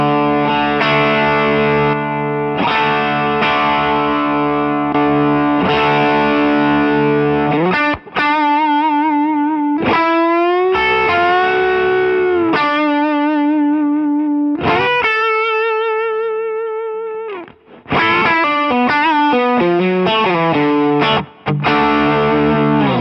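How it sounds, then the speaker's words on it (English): Electric guitar runs through a Cornerstone Antique V3 overdrive pedal with its comp mode off, playing loud, crunchy strummed chords and sustained bent lead notes with brief pauses. No one speaks. "Let's hear that with the comp mode disengaged."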